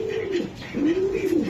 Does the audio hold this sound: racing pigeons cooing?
yes